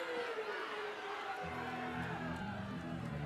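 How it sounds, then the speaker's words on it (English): A large crowd at a college softball game between Tennessee and Mississippi State murmurs and cheers as one broad roar in the distance. It holds steady throughout, with a low rumbling swell near the end. "Schaefer's blast has definitely woke up this huge crowd"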